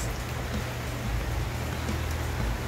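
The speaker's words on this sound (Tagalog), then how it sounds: "may ulan ano, nalakas po yung hangin ng konti-konti" Steady, dense rain hiss blends with a low rumble of wind, loud and unbroken throughout.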